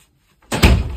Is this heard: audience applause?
no